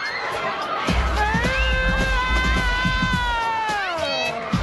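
Children screaming loudly at a sports event, with high, wavering shrieks rising and overlapping over crowd noise and low thumps, sustained and close throughout.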